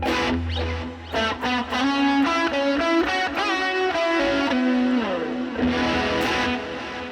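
An electric guitar through a Fender Tone Master Pro plays a melodic line with echoing delay repeats and a lingering reverberant wash, sustained notes ringing into each other.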